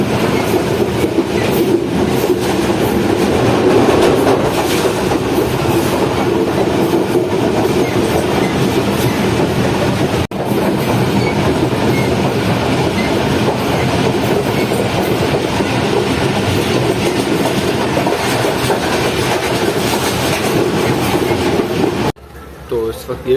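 Inside a coach of the Pak Business Express train coming into Hyderabad, a continuous rumble and wheel clatter runs throughout at close range, with a brief sharp knock midway and faint voices nearby.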